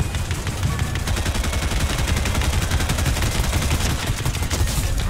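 Dense, continuous gunfire from the Fortnite video game, rapid shots packed close together and loud throughout, with no talking.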